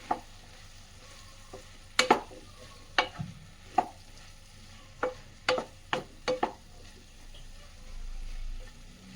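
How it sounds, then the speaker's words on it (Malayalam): Mushrooms stirred into frying masala in a pan, with a quiet ongoing sizzle and a series of sharp spoon clacks and scrapes against the pan, spaced irregularly. "ഇനി നമ്മൾ ഈ മഷ്റൂം എല്ലാം നല്ലതുപോലെ ഇതിലൊന്ന് ഇളക്കി യോജിപ്പിച്ച് കൊടുക്കും"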